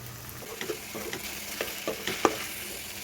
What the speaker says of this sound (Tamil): துருவின கேரட், பீட்ரூட் சேர்த்துட்டு நல்லா சாட்டே பண்ணிவிடுங்க.